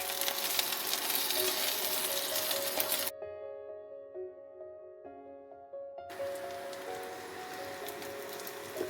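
Ginger and garlic frying in hot oil give a steady sizzle, loud and dense at first, dropping away to near quiet with a faint tone in the middle, then returning to full crackling sizzle.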